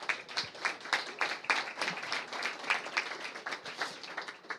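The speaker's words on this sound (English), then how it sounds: "a big round of applause for our panelists" Applause from a conference audience for panelists at a climate resilience event, quick, fairly close hand claps in an uneven patter from a modest group, continuing steadily without talk.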